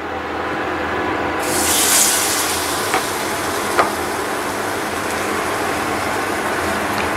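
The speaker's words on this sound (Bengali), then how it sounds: "আমি এখন তেলের মধ্যে দিয়ে বড়া ভেজে নিচ্ছি।" Shiuli leaf fritters in batter frying in hot oil, a steady broad sizzle throughout with a brighter hiss swelling briefly near the start and a couple of small pops.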